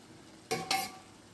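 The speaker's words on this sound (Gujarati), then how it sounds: "દહીં ફાટે નહીં ને એટલા માટે આપણે આવી રીતે ફટાફટ મિક્સ કરવાનું" Two quick scraping stirs of a spoon mixing yogurt into a thick spice mixture in a pan, close and brief, with no talking.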